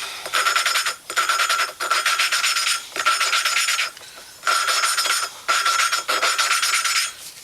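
Gritty rasping scrapes from lapping compound being worked over an engine seating surface on a Honda Recon 250, in steady back-and-forth strokes with brief pauses between them, close and loud.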